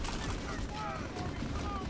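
Faint bursts of gunfire in Call of Duty: World at War under a steady noisy background, with occasional whistling electronic tones, distant and muffled.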